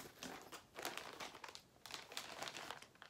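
Plastic Ziploc bags with colored zipper tops crinkle and rustle in repeated close bursts, handled continuously with brief pauses between louder crunches.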